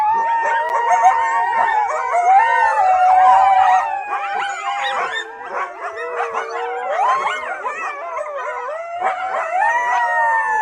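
A pack of coyotes howling at night, several overlapping wavering howls and yips rising and falling together, loud and sustained throughout with no talking.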